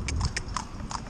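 A riding school mare's hooves clip-clop at a trot, a quick run of close, distinct hoof strikes over a low steady rumble.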